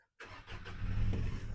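A 2019 Mitsubishi Triton Adventure X 2.4 VGT pickup with automatic gearbox starts up after a short silence, the diesel engine catching quickly and settling into a rising, steady close rumble.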